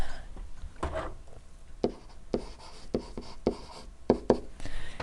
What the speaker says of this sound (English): I'll write it out.